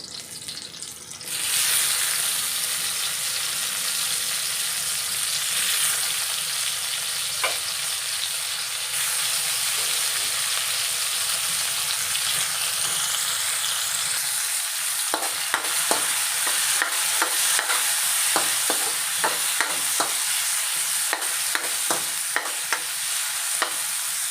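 Chopped tomato goes into a hot frying pan for a bitter melon dish, bringing a loud continuous sizzle joined partway by scraping stirring strokes and light clinks, with no talking.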